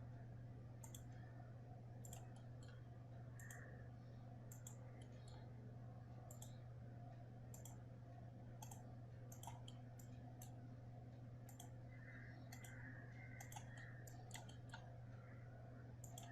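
Mouse clicks in Fusion compositing software, a steady series of short, sharp ticks spread across the stretch over a constant low hum, fairly faint and close, with no talk.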